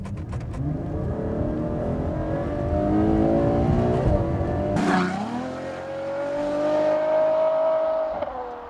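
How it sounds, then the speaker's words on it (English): Ferrari FF V12 engine downshifting at speed, a loud sustained roar that drops through gears with a sharp rev blip midway, then settles into a steady rising drone, heard close from inside the car with no talking. "Now I'll just knock it down a couple of gears so you can hear it for yourself."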